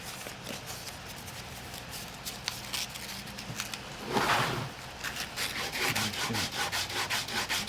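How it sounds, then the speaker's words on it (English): Leather saddle being sanded by hand with 400 grit wet and dry sandpaper, a close, quiet, rhythmic rubbing scrape in quick repeated strokes with a louder burst midway. "I'm just sanding off most of that fuzz there."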